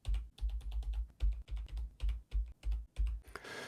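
Keys clack on a computer keyboard in a quick, uneven series of about a dozen close, crisp taps and short bursts, with no talking.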